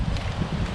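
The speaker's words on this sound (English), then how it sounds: "It's a wee bit windy, but I think we'll be fine." Wind blows through an outdoor garden, buffeting the microphone with a loud, low, rumbling gust that rises and falls unevenly throughout.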